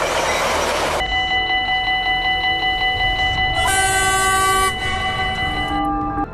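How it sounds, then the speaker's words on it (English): A Metro Express train rumbles loudly past close by, its horn sounding in long sustained tones over the steady roar of the wheels. "a Metro Express train thundered past"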